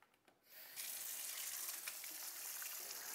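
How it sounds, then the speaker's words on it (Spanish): Tap water gushes steadily from a kitchen faucet as a halved leek is rinsed under it, starting after a brief quiet moment and then running as a continuous hiss with no talk. "lo pasamos en el grifo para quitarle toda la tierra"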